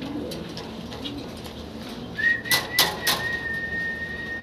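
Pigeons kept by a fancy-pigeon seller, their soft cooing calls rising with a brief whistling call near the middle, over a faint background hum.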